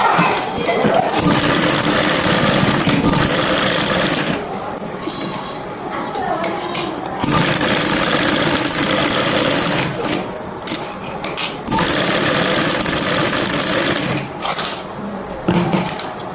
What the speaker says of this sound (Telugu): సో ఇక్కడికి వచ్చాక స్టిచ్చింగ్ అనేది చేసుకోవాల్సి ఉంటుంది.